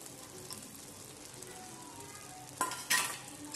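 Dry fruits going into carrot halwa cooking in a pan: a soft steady sizzle with faint stirring, then two brief sharper scrapes or clatters near the end.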